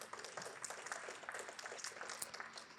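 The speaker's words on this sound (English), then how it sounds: "Round of applause for those people," Faint audience applause at a business keynote, a dense, steady patter of many hands clapping heard from a distance, with no speech over it.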